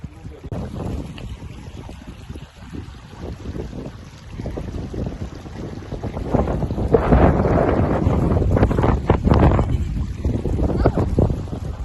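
Wind gusting outdoors around Barbon Village in England, buffeting the microphone in uneven rumbling surges that grow stronger midway, with a voice talking beneath it.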